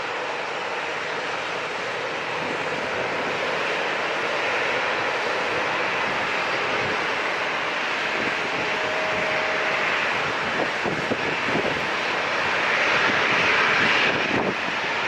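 An airliner rolls down the runway for takeoff at San Diego International Airport, its engines a loud, steady roar that swells slightly toward the end.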